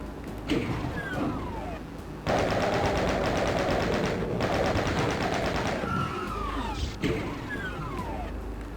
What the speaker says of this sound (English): Oh, hey, a chain gun, nice.